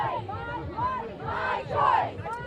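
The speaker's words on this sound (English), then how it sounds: "as you're hearing, the crowd is getting louder and louder" Crowd of protesters shouting outside the Supreme Court on the day Roe v. Wade was overturned: a dense mass of voices chanting and yelling in swelling waves, loud and close, rising toward the end.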